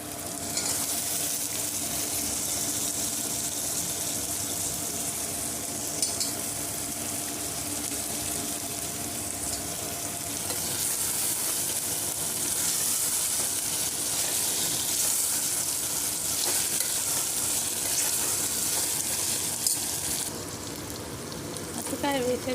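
Raw banana pieces frying in a pan for a South Indian pulusu, a steady dense sizzle that runs unbroken at close range, with a voice speaking faintly underneath.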